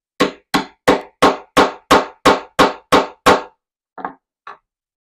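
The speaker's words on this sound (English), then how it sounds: "we're just going to secure those with the hammer" A hammer taps metal cord keeper pieces onto a metal base in ten quick, evenly spaced strikes, close and crisp, followed after a pause by two softer, lighter taps.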